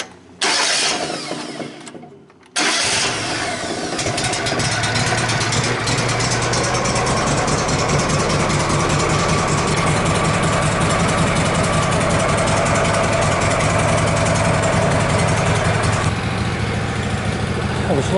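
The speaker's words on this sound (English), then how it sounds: "I'm going to start the saw up, let it warm up" A Woodmizer sawmill's engine starts after a short quiet gap, then idles steadily and loud at close range as it warms up, with a constant low rumble throughout.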